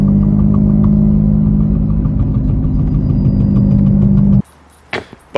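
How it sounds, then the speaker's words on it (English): Loud, steady engine rumble and whir from a drift car with a blown axle holds for about four seconds and then cuts off abruptly, followed by a couple of brief knocks. "I blew an axle basically last night."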